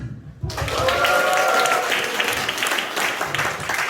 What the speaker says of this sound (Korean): 이 언니들의 삶에 박수.